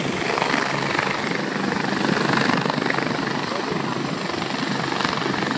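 A helicopter sets down for a landing, its loud, steady rotor and engine roar filling the air at close range with a continuous whirring wash throughout.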